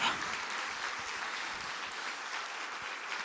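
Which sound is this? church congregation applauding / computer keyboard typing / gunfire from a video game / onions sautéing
church congregation applauding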